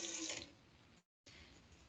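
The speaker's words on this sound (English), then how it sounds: "just with your hand splash some into your pan" Water splashed by hand into a very hot pan holding a tortilla bursts into a loud sizzling hiss of steam. The hiss fades, cuts out briefly, then returns steadily, with no talking.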